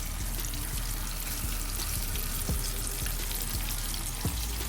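Jumbo shrimp frying in hot oil make a loud, continuous crackling sizzle close by, with a few faint clinks of a utensil and no talking.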